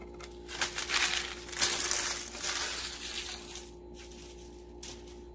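Scissors or shears cutting fabric for a sewn jacket, a few bursts of crisp crunchy snipping and rustling up close, moderately loud over a faint steady hum, without talk.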